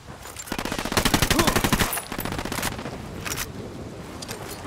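Gunfire in the video game Ghost Recon Wildlands: rapid automatic bursts crackle loudly for about two seconds, then scattered shots and softer distant fire follow, with no talk over them.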